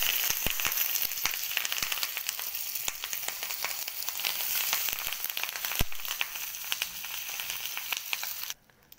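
Kerala-style fish fries in a hot pan with a steady, close sizzle and crackle, scattered sharp pops breaking through before the sound cuts off abruptly near the end.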